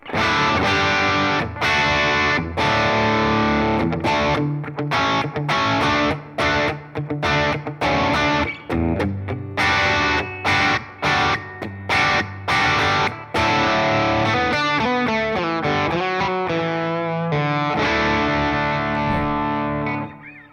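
A distorted electric guitar through a Fender Tone Master Pro amp modeler plays choppy chords and riffs with brief gaps, then sustained ringing notes, loud and continuous with no talking.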